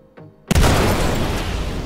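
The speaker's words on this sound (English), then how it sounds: "Three Saiswan missiles." Missiles exploding against the shields of a Terrapin ship in a space game, a sudden heavy blast breaking a quiet hum, followed by a long loud roar that slowly fades.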